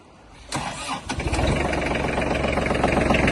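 Kubota T22 mini tractor, a 22 hp Japanese diesel with rotary tiller, cranks briefly and catches, then settles into a steady, close, loud idle with a continuous low rumble.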